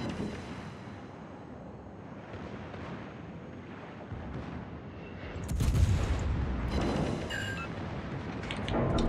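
Heavy booming naval cannon fire and rumbling explosions in World of Warships roll over a constant windy roar, with a loud blast about midway and more crackling shots after.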